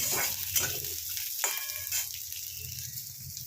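Green chillies fry in hot oil over a high flame, giving a soft crackling sizzle broken by a few light clicks and taps, fairly quiet and with no speech.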